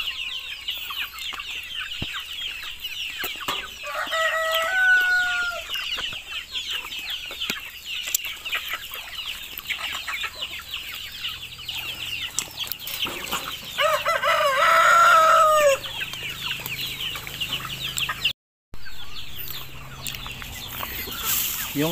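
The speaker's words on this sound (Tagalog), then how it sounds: "yung ibang mangga ay papakain naman natin sa ibang mga manok." Farm chickens clucking while being fed mangoes, with a rooster crowing twice against a constant background of insects and outdoor ambience.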